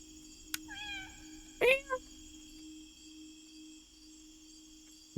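A cartoon cat in the video game Indigo Park gives a single clear, close meow with a rising then falling pitch when petted, standing out over a steady background hum.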